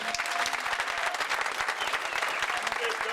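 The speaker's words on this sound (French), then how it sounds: "Encore une fois de plus des tonnerres d'applaudissements" Dense, continuous applause from a crowd at a political arrival event in London, steady rapid clapping throughout, close and loud.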